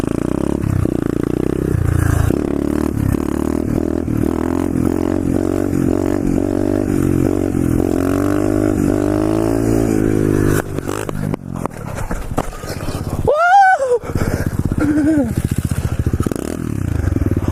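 Pit bike ridden with a steady loud engine drone, then a crash with scraping and clattering, followed by a rider's shouting and talking near the end.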